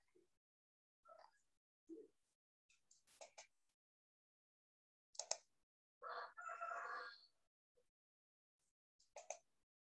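A rooster crows somewhere outside, faint and distant: a few short broken calls, then one longer drawn-out crow, with quiet gaps between them.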